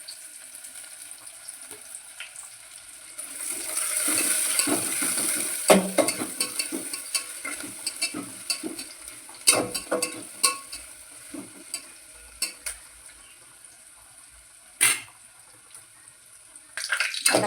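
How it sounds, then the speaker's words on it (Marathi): Onions frying in a couple of ladles of oil in a hot pot for chicken biryani, a soft sizzle swelling in the middle with scattered clinks and scrapes of stirring, fairly quiet and without talk. "याच्यामध्ये आपण कांदा फ्राय करायसाठी थोडं तेल टाकून घेऊ"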